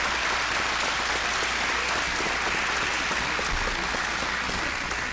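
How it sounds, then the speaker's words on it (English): Sustained applause from an audience at a 2018 gubernatorial campaign debate, a dense even wash of clapping filling the whole stretch at steady loudness with no talk over it. "let's give them a round of applause for a good answer"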